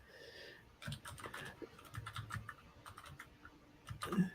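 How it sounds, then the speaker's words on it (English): Light typing on a computer keyboard comes in quick bursts of soft clicks, fairly close but quiet, with short pauses between runs of keystrokes and no voices. "Just typing a little bit."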